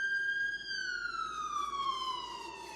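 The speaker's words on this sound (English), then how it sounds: "here comes the ambulance in the background" An ambulance's wailing siren sweeps steadily downward in pitch as it moves along a road at a moderate distance from a farm, with no other sounds over it.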